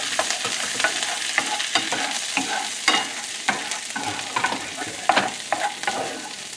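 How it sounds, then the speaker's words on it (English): Butter browning with black garlic in a pan, a steady close sizzle broken by soft stirring scrapes and small crackling pops at an uneven pace. "You can maybe see here around the edges where the butter is starting to turn brown"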